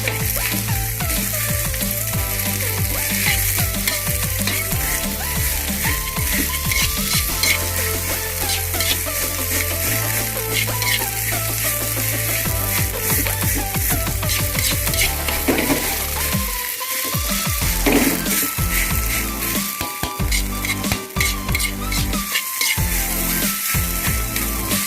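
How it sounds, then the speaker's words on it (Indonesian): Javanese fried rice with cabbage is stirred in a hot pan, a continuous sizzle with scraping and clattering strokes, loud and close, with music playing throughout. "Setelah itu kita aduk sampai rata."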